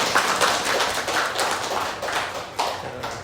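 A church congregation gathered for the final day of a Bible overview series claps together in encouragement, a steady, moderately loud spread of hand claps with a few sharper individual claps standing out.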